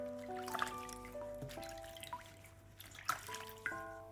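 Celery rinsed in clean water, with soft, faint drips and trickles over a quiet background and a few sharper splashes, accompanied by a gentle musical tone.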